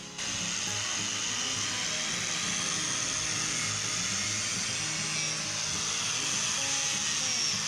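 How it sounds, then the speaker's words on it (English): A power sander grinds away old plaster in a steady, continuous whine and rasp, loud and close, with no pauses and no talk. "now we are going to remove it, pass the sander"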